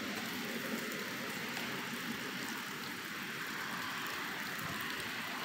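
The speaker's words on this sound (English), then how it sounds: "Boy, it's a rainy day outside." Soft, steady rain patters outside in Houston, Texas, a constant broadband hiss with no voices.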